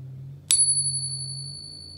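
A single bright metallic ping from a real 90% silver Morgan dollar rings out clearly and sustains with a long, pure shimmering tone over a low background hum.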